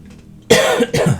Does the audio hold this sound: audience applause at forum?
no